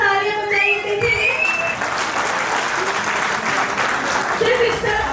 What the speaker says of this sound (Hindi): जोरदार तालियां बजाइए, देखिए।